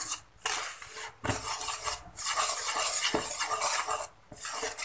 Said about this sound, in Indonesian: Lalu kita kocek supaya semuanya tercampur rata.